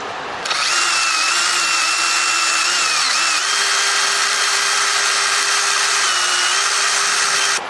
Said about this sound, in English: I'm just going to burnish it now with this small brass wire bush.